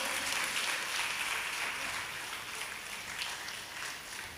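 Crowd applause at a felicitation ceremony for social service honours, a continuous, fairly soft wash of clapping from the audience that holds steady without anyone speaking.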